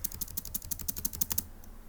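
Rapid typing on a computer keyboard, a quick run of about a dozen crisp, evenly spaced keystrokes close to the mic, ending in a slightly louder final tap, with no one talking.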